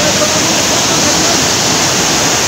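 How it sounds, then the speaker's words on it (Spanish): A powerful waterfall in Eloxochitlán, Oaxaca, swollen by rain, roars continuously, a loud, dense rushing of water with no breaks. "Vamos a ver aquí el poder del agua, el gran sonido."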